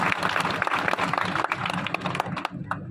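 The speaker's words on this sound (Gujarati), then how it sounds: "ઉમેદવાર ભરતસિંહ ડાભી સાહેબ એકવાર જોરદાર તાળીઓ પાડી" A crowd at a political rally claps for candidate Bharatsinh Dabhi. The applause is a brisk, fairly loud patter that thins out toward the end, with faint voices mixed in.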